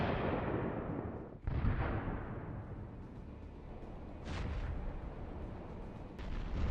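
Explosions from attacks on Russian tanks: a sharp heavy blast near the start, then two more broadband bursts later, over a constant rumbling combat background with no voices.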